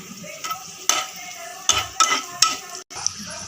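Cashews and raisins fry in hot ghee for payasam while a spoon stirs and scrapes the pan, giving soft sizzling under several sharp metallic clinks, close and moderately loud.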